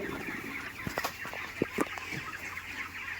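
Chickens cluck and chatter on a poultry farm, a busy flock with short overlapping calls rising over a steady background hum.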